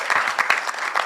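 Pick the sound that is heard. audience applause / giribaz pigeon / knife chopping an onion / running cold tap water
audience applause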